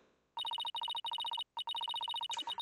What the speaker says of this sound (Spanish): Vale, está intentando Apolo llamar, ¿no?